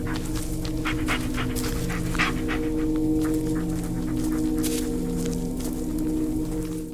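A dog pants steadily and close in the Blair Witch video game, quick breathy huffs running without a break over a low, constant ambient hum.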